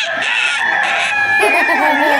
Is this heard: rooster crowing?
yes